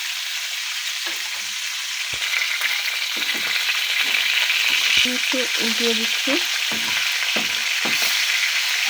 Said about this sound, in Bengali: কম আগুনে ভাজতে হবে আমি আগুনটা কমিয়ে দিলাম